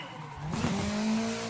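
A car in a drifting video game revs its engine while a sustained tire squeal rises and holds, loud and close, with no talking.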